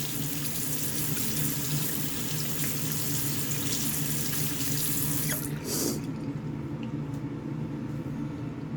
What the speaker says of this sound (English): Let's rinse the top one and pop the top one in.